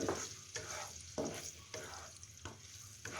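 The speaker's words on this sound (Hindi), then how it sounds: "अब देख रहे हैं कि अदरक लहसुन का पेस्ट जो है वो फ्राई हो रहा है" Ginger garlic paste sautés in a pan with a faint, steady sizzle, broken by regular scraping strokes of a spoon that come roughly every half second, close by and fairly quiet.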